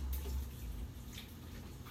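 Water pours in a steady low wash into a commercial kitchen blender, a continuous close splashing sound with no voices.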